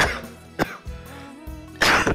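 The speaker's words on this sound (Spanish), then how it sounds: "Me ha entrado un ataque de tos, tío." A man in the middle of an interview breaks into a coughing fit: three harsh, loud bursts of coughing close to the microphone, with wheezy, strained breathing between them and no talk.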